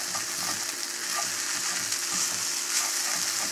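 Fried rice with peas and yuba sizzling loudly in a pan while being stirred and blended together, a dense continuous frying hiss with soft scraping of the utensil throughout.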